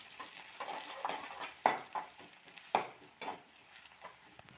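A small chopped onion goes into hot oil in a pan for vegetable palya, giving a soft, close sizzle broken by several sharp spatula scrapes and clicks as it is stirred.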